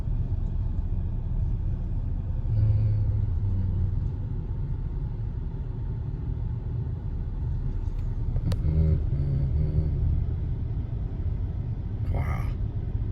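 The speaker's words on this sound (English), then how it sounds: "that's like a lot of traffic right there" Heavy traffic rumbles through a parking garage at DFW Airport, a continuous low drone of engines with a few brief sharper whooshes of passing vehicles and faint voices underneath.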